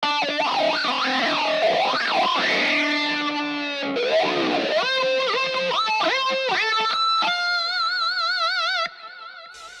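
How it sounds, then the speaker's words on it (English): An electric lead guitar plays a wandering metal melody through a sweeping Quasar Effector wah filter, bends and vibrato rising and falling, loud and continuous. "another lead guitar track with the wah in it"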